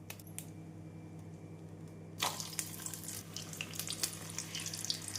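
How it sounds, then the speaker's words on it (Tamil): Bread pakoda drops into hot oil in a faint, quiet kitchen, and a bubbling, crackling fry starts abruptly partway through, then continues close by without talk. "எண்ணெய் நன்றாக சூடானதும் மீடியம் ஃப்ளேமில் வைத்து பொரித்து எடுத்து விடலாம்"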